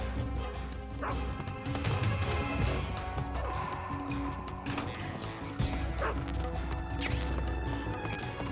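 In Metal Gear Solid 3, a radio dog yips and barks in short bursts amid game sounds and crashes, moderately loud over a constant low rumble.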